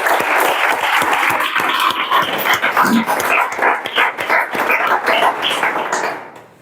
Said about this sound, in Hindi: जोरदार ताली मारा